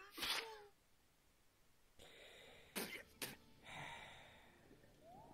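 A cartoon character sneezes in the point-and-click adventure game The Inner World, with a sharp burst at the start followed by quieter game sounds and a few short bursts.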